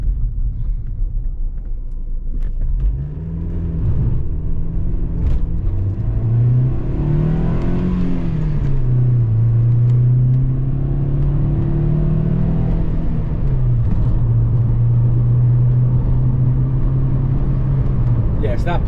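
A Rover Streetwise 1.4 car pulls away from a standing start, the engine note rising through the gears over a steady road rumble from inside the cabin, with a person talking over it.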